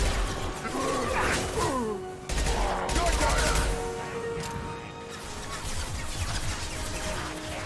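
Weapon fire in Mass Effect 2, a busy run of shots and impacts mixed with whooshing game effects and music, loud throughout with brief quieter gaps.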